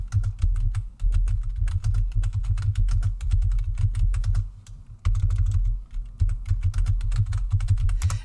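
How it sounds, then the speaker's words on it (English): Rapid typing on a computer keyboard, close and clear, with dense clattering keystrokes and a couple of short pauses. "And I'm typing that in."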